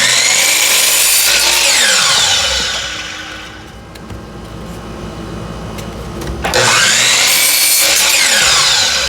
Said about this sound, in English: we're going to cut 2 5-inch strips off of it.